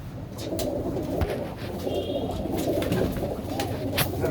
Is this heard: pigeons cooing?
yes